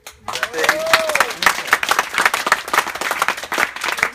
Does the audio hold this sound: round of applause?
yes